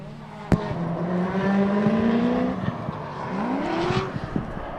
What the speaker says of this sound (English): Donahue in that E46, trying to reel him in, trying to catch that little Miata in the chase position